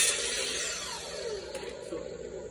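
A mitre saw slices through a piece of wood at a fence set-up, a bright rasping cut that starts fairly loud and eases off as the blade passes through.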